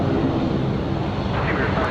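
An aircraft passes at night at Sydney Airport, a loud, steady engine roar that holds for the whole short stretch, with people talking under it.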